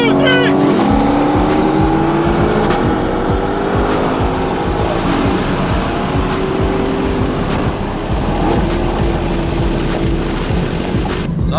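A Shelby GT500 and a C8 Corvette roll racing, engines roaring hard under acceleration with rising pitch and a sharp shift, loud and close, with sharp wind or mic buffeting and people talking over it.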